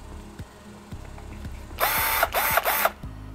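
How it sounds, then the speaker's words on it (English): A cordless drill spins up in a few short, loud bursts of whirring motor after quieter ratcheting clicks, close and alone without speech. "overall it does feel like a good quality drill. So see, as you can see, it does have some good power behind it"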